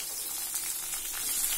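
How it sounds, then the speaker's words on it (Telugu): Green chilies, mustard seeds and cumin frying in hot oil, giving a steady, close, crackling sizzle with no pauses and no voices. "పచ్చిమిర్చి అనేది ఆయిల్ లో బాగా కొంచెం ఫ్రై అవ్వాలండి"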